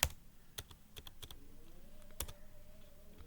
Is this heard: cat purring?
no